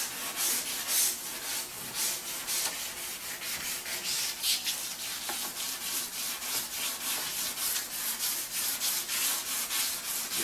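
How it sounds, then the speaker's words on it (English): Sandpaper rubbed back and forth along the edge of a baptismal system installation area being prepped for silicone, producing steady, close rhythmic scratchy strokes throughout, with no talking. "now we're going to take the sandpaper, and again we're going to sand the edge of the area that's going to get the silicone"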